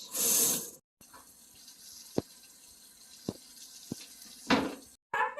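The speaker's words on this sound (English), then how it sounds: "I didn't test the temperature of the water before I washed my hands" Water runs from a tap into a sink during handwashing, a close splash with short bursts and gaps, punctuated by brief sharp clicks and knocks of the basin and fixtures, with no talking.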